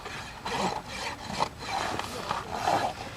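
A farrier's rasp scrapes across a horse's hoof during trimming, working the bevel with a steady run of rough, grating strokes at close range, about one every half second.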